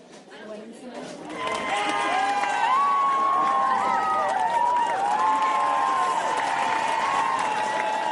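A crowd of demons cheers and yells together, swelling up over the first two seconds into a loud, sustained roar of many overlapping voices that carries steadily to the end.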